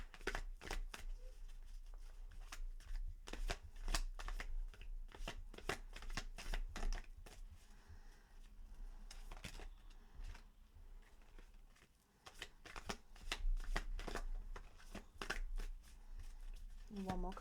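Tarot cards are shuffled in quick repeated riffling bursts close by, with a soft spoken voice talking over and between the card sounds.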